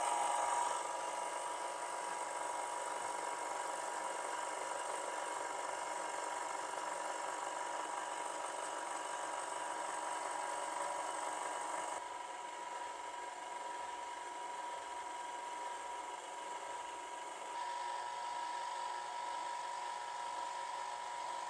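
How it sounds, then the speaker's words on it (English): An ice cream maker churns espresso or peanut butter brownie ice cream batter at slow speed, giving a steady, loud mechanical whir with a motor hum that runs unbroken throughout, with slight shifts in tone partway through and no voices. "Make sure that your mixer is on before you put the batter in"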